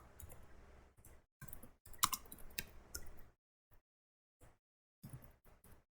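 Keys clicking on a computer keyboard while writing a comment in RStudio, a quiet, irregular patter of taps in short bursts with brief pauses, close and alone with no talk.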